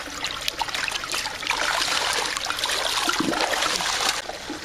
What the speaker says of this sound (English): pour that acid in there